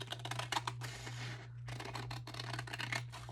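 Scissors snipping through a paper wallpaper template, a run of quick crisp cuts close by with a short pause midway, under a steady electrical hum.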